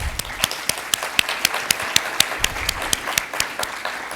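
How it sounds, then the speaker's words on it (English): Audience applause for entrepreneurship competition finalists, a steady wash of many hands clapping with sharp individual claps standing out, sustained and fairly close throughout, with no talking over it. "So can we give a big round of applause for our..."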